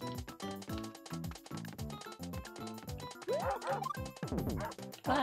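Yappy dog barks from a Super Mario Maker 2 level sound effect repeat over upbeat game music, and a voice breaks in loudly near the end.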